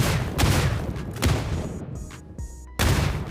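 Several heavy booms and bursts of gunfire in the mobile shooter New State Mobile crash in sequence, loud and dense, with brief drops in the noise between blasts.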